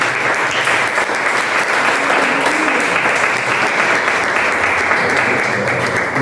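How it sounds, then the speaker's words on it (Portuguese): A church congregation at an evening worship service held in a garage claps in loud, continuous applause, a dense wash of hands that holds steady from start to finish. "Eu queria que você aplaudisse o nome do Senhor Jesus."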